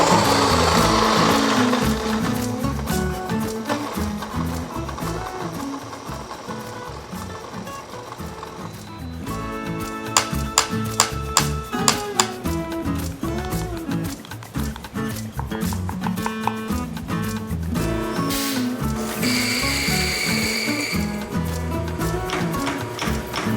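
A Fellow Ode home coffee grinder grinds beans with a steady, loud mechanical whir and buzz. Rattling clicks and shifts in tone run through it for over twenty seconds, with no talking.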